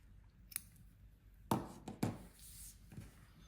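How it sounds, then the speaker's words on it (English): Scissors snip crochet yarn at a fastening-off point, giving a few quiet, crisp cuts and light handling taps close by in an otherwise hushed setting. "this time I'm going to fasten off, so I can snip that yarn"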